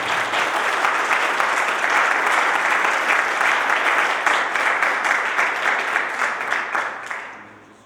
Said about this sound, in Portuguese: Vamos dar uma salva de palmas ao nosso Senhor.